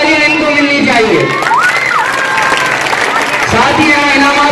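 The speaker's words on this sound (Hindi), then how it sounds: "आपकी ढेरों तालियां इनको मिलनी चाहिए।" Loud applause and cheering from a crowd at a school annual function for prize winners, dense clapping mixed with shouting children and voices, with a rising whistle-like cry in the middle.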